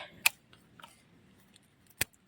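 Two crisp, isolated snips of pruning shears cutting dry stems on a garden rose bush planted last year, one near the start and one near the end, with quiet outdoor background in between.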